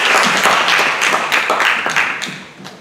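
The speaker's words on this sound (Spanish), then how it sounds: "Un aplauso para ellos." Brief burst of audience clapping at a panel session on art and cinema, a roomful of hands fading out over a few seconds.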